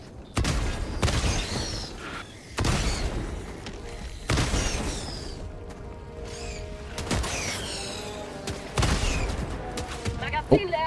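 Repeated bursts of gunfire and booms in the Helldivers II co-op shooter game, several loud volleys separated by short lulls, with mechanical clicks and a voice talking at times.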